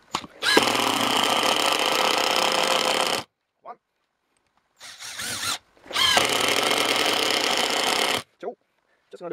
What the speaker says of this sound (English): I'm just gonna drive 5 screws into this piece of wood here.